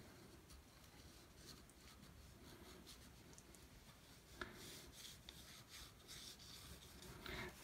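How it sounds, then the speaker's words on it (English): A graphite stick scratches and rubs across paper in soft, quiet strokes, faint and close, growing a bit louder with a few sharper scrapes near the end. "let's try using the graphite stick now, which gives another sort of line"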